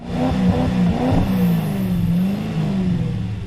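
A 1990s Formula 1 car in the Toca 3 racing game revs hard and steadily, its high engine tone rising and wavering throughout with no talk over it.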